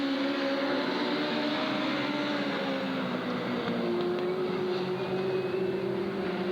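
Stock cars circling the Southern Oregon Speedway oval make a constant, somewhat distant engine roar that blends several motors into one steady drone, with a faint pitch sweep from a passing car and no voices.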